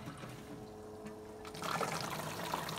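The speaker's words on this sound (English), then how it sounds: "you can probably hear it gurgling back into that tank" Water gurgling through intercooler lines back into a reservoir tank, driven by a circulation pump, a close, steady trickling and splashing that grows stronger partway through over a low hum.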